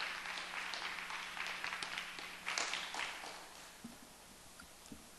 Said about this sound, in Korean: 우리 다시 한번 박수해 주시겠습니다.